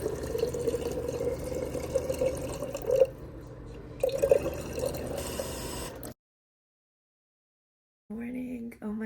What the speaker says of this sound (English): I used their fancy water machine in the gym